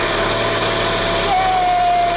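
A Citroen Saxo / Peugeot 106 engine idles in a steady, even hum close by after a fuel pump change, with a faint thin whine rising in toward the end; no talking.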